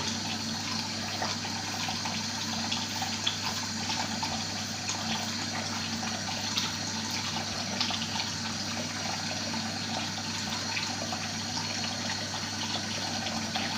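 Water runs steadily from a bathroom sink tap during a safety-razor shave, a constant close hiss and splash that holds even and unbroken throughout, with no talk.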